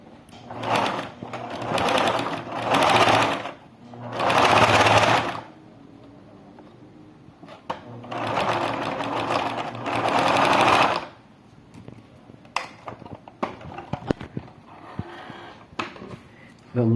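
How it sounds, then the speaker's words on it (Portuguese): A sewing machine stitches the top of a small baby shoe closed, running in several loud bursts of steady whirring separated by short pauses, followed by lighter clicks and handling of the fabric. "a gente vai passar uma costurinha unindo e fechando a parte de cima do nosso sapatinho."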